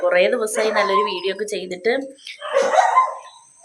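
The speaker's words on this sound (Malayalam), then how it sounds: "നല്ല പട്ടി കുരയ്ക്കുന്ന സൗണ്ട് ഉണ്ട് കേട്ടോ" A dog barks in the background of a home during the rainy season, partly buried under a person talking close by.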